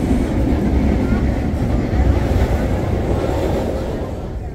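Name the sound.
passenger train running on rails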